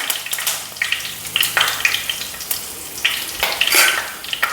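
Green chillies and curry leaves hitting hot oil with fenugreek seeds for a Kerala-style fish curry, giving a crackling sizzle with sharp pops and spurts, close and fairly loud, and no voices.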